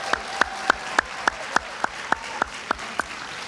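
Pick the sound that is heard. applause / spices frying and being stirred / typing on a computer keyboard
applause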